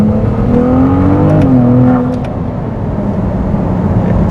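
A 2023 Ferrari 296 GTS, an 820-horsepower hybrid sports car, accelerating hard with a loud, steady engine roar whose pitch climbs, dips at a gear change and climbs again, heard from inside the cabin.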